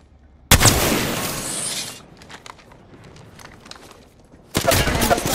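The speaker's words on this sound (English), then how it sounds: "Taking fire! Getting shot at." Gunfire in Apex Legends: a loud burst of rapid shots, then softer scattered shots and game noise, then another loud burst at the end, with no talk.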